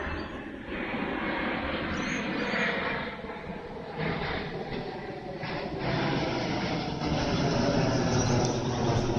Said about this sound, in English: here's a matrix plane about to come over my head